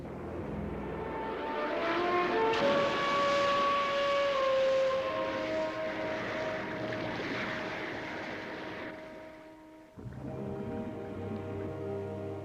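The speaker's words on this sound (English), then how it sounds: "Fasten your seatbelt, Susan. I'm taking her down for a landing." Thunderbirds 2086 rescue aircraft descending to land near a volcanic eruption, a loud sustained jet roar with rising and falling siren-like tones that swells, holds, then cuts briefly before the engine drone resumes.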